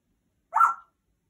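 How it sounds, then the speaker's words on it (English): A single short dog bark, close and clear, surrounded by silence. "Who are you barking at?"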